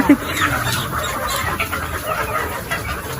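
Darag native chickens cluck and fuss inside their pen, a busy scatter of short calls over steady farmyard background noise.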